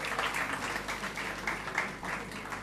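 An audience at a 12th-class student talent award ceremony claps for an honoured student, a moderately loud, uneven patter of many hands running throughout in a slightly reverberant room.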